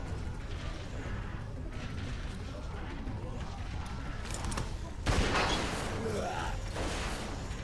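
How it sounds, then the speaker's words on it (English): A shotgun fires in the video game The Walking Dead: 400 Days, a single loud blast cutting through steady in-game ambient noise and character voices. "Fire the fucking gun!"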